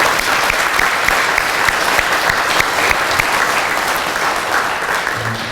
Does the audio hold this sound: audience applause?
yes